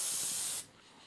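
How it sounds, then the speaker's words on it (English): Glue accelerator sprayed onto a guitar fretboard on a CNC-built guitar: one loud, close hissing burst of aerosol lasting about half a second, then cutting off abruptly into near silence. "A little accelerator to make life faster."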